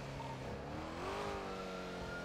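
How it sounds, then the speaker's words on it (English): Several cars rev and accelerate past in a Grand Theft Auto V street scene, with engine pitch rising and falling as they sweep by, a steady close roar that continues throughout without any voices. "So many cars right now."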